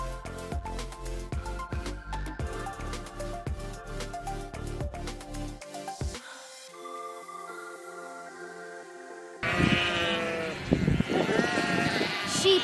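Sheep bleat loudly and close in the last few seconds, with several wavering cries that come after cheerful children's music.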